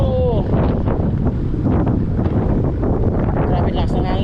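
Strong wind buffeting a microphone during a roadside journey in Pangasinan, a loud steady rushing roar that masks the surroundings, with faint voices and occasional passing noise beneath.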